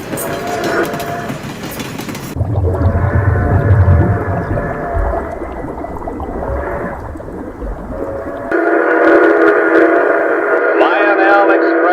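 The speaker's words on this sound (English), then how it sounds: "Here's realism. Lionel's smoke-puffing loco." Lionel postwar toy locomotive puffing smoke as it runs on model track, a steady mechanical hum and clatter with shifting tones, loud and close throughout with no talk.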